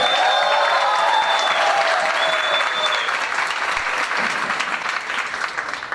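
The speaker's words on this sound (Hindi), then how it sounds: "हमारे प्रकाश जी एनटीसी के लिए भी जोरदार तालियां" Loud, sustained applause from an audience at a training event in Mumbai, a dense wash of clapping filling the room for the full stretch, with a couple of whistles cutting through early on and the clapping thinning slightly toward the end.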